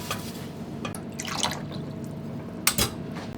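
Water poured into a pan for braised fish, with a few close drips and splashes followed by a short louder pour near the end, no talk.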